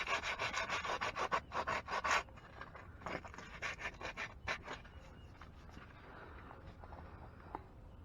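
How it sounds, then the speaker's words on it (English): Sandpaper rubs in quick back-and-forth strokes over a chipped gel coat patch on a boat, close and scratchy, with the strokes thinning out into lighter, sparser scuffs. "take some sandpaper and scuff up"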